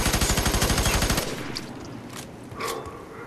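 Rapid automatic gunfire from the video game FEAR 3 rattles in a fast burst for about a second, then gives way to faint scattered impacts and game sounds.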